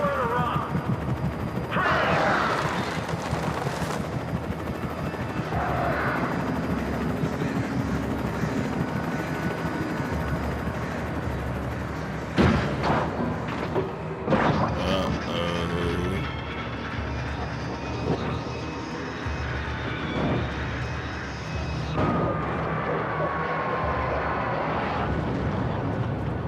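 Helicopter in the video game Alan Wake, its rotor and engine running steadily through a dense mix of gunfire bursts and other in-game effects, with voices speaking over it.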